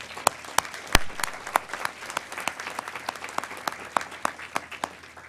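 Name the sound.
graduates applauding their families at commencement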